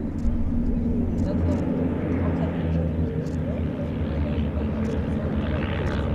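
A rare de Havilland Moth Major biplane flying at an airshow, performing a half Cuban, gives a steady, droning engine roar that holds throughout while a voice talks over it.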